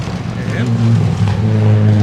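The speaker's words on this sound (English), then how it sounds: "That's Justin Bradley and Andrew Dunnismuir in the Group A 323. It sounds strong still" Group A Mazda 323 rally car engine on a forest stage, a strong, steady low drone held loud and close throughout, with commentators talking over it.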